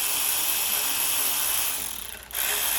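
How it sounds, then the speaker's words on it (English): A ratchet clicks steadily and rapidly, close and loud, undoing the 10 mm bolts on a Miata engine's oil pickup tube during a short block teardown, with a brief pause near the end before resuming. "it's just a matter of undoing these two 10 millimeters from the oil pickup tube."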